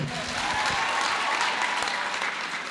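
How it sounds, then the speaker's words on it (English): Audience applause for a nursing student who has written a book, a dense, continuous wash of clapping hands at a steady level with no speech over it. "Can we clap for him?"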